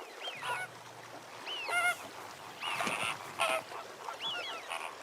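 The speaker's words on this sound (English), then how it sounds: "greater flamingos are among the earliest visitors every winter." Greater flamingos at Chilika lake in winter giving goose-like honking calls, several separate nasal honks spread over a few seconds, moderately distant over faint background ambience.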